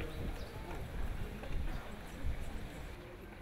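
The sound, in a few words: pair of cob horses trotting with carriage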